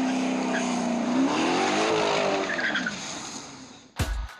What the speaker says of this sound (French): Faire chauffer le bitume, crisser les pneus, vérifier leur adhérence sur des routes qui ne sont normalement pas dédiées aux courses automobiles.